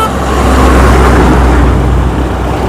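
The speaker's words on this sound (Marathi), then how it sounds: "ती बघ गाडी येते आपल्यासाठी" A motor vehicle on a road heard steadily and loudly close by, a continuous broadband engine and tyre rumble with no talk, during hitchhiking travel between Mumbai and Nepal.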